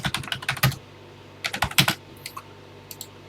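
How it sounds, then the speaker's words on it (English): A TI BASIC program is typed on a TI-99/4A home computer keyboard in two bursts of quick, crisp key clicks, close up, separated by a short pause and followed by a few scattered taps. "press 1 for TI Basic, and start typing."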